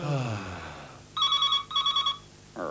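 A classic telephone bell rings in two clear double bursts, loud and close, after a stretch of speech, with talk starting again right at the end.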